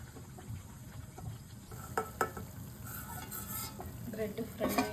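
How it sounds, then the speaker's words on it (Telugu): Bread slices fry in hot ghee for Hyderabadi double ka meetha, a soft sizzle with clinks and scrapes of a utensil in the pan, growing busier toward the end, fairly quiet. "ఇప్పుడు బ్రెడ్ ఫ్రై చేసుకుందామండి"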